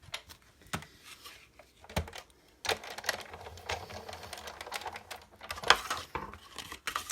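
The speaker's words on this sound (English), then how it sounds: "So let me get the Big Shot, which is right behind me." A Big Shot die-cutting machine cuts an opening in a paper label, giving scattered clicks and mechanical cranking clatter in uneven bursts, close by and moderately loud, with no talk.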